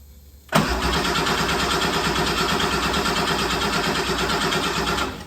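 A 1974 Porsche 911S engine cranks and catches abruptly on its first start, then settles into a loud, rhythmic, lumpy idle that keeps running close by for several seconds.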